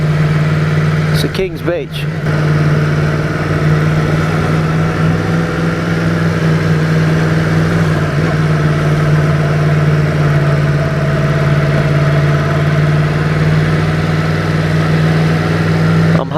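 A Yamaha MT-10 motorcycle idles steadily on a coastal road at Caloundra, with a constant low engine hum throughout and a rider talking over it.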